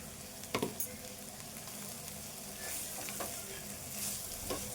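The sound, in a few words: frying prawns with salt and chili powder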